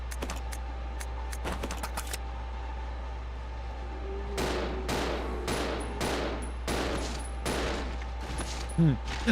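Gunfire in the video game Resident Evil Zero: a string of sharp shots, a few early and then a faster volley spread out over the second half, heard at moderate level under a steady background hum.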